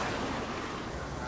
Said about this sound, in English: Okay, the gate's opening, letting the water level balance out.